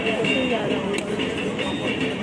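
A Sonarpur local train waits at a busy Kolkata railway platform, giving a steady, loud mechanical rumble and hiss with faint clatter throughout, mixed with general station noise and murmuring voices.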